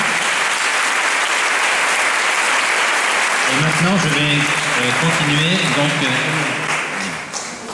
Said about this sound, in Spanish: Ok, je vous applaudis, bravo.